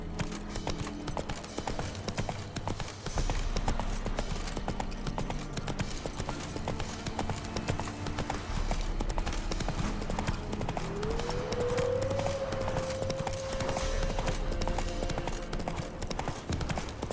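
A horse in The Witcher 3: Wild Hunt gallops, with a continuous, loud, close run of hoofbeats over game music and ambience and a brief tonal swell near the end.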